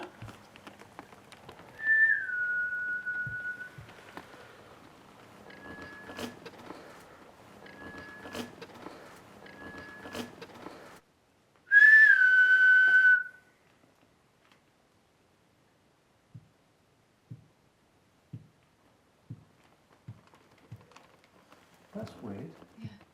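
During a ghost hunt in an old hall, a few short, thin whistles sound at a moderate distance in a quiet room, followed by one louder sustained whistle, then scattered faint taps and knocks.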